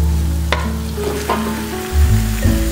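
Dried red chillies and ground pepper fry in a pan while being stirred, close and loud, with a spatula scraping a few times over a steady sizzle and a low background hum.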